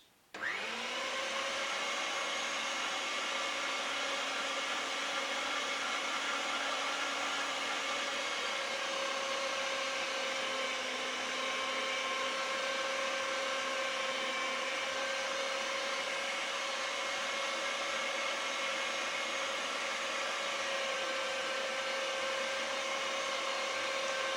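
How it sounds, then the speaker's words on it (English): An electric meat mincer grinds beef through a coarse, big-holed plate for a country-style terrine: a loud, steady motor whine and hum that runs unbroken for the whole stretch, with no talking. "So now we're going to mince all the beef through this once."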